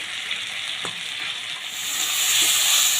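Chicken marinated with salt and turmeric goes into a kadai of sautéed ginger and garlic, and a steady frying sizzle swells louder and brighter as the meat hits the hot oil, with no talking.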